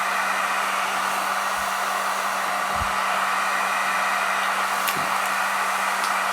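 A hair dryer blows continuously at close range to heat the label on a 3-inch floppy disk, a loud steady whooshing roar with a faint hum and a few small knocks.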